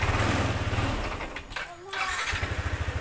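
The engine of an older Yamaha NMAX scooter with a fault chugs unevenly at idle, stutters and sags when revved, nearly cuts out, then picks back up into a rough, pulsing idle, recorded close by.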